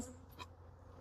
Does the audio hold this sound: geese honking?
no